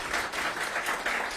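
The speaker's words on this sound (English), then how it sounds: "Let's give them a big round of applause." Audience applause at an outdoor groundbreaking ceremony for a Ward 1 housing and arts project, a dense, steady wash of clapping that holds at an even loudness throughout with no talk over it.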